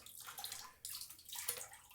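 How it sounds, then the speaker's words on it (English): A synthetic shaving brush is dunked into water a couple of times, giving two quick splashing swishes with a short pause between them. "This one, just dunk right in the water a couple times, pull it up"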